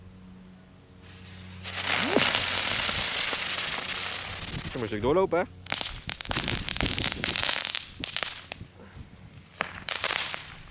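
Category 1 firecrackers and fireworks crackle and snap outdoors in dense rapid bursts, one whistling shriek rising midway, followed by a long run of sharp pops, while someone speaks over the noise.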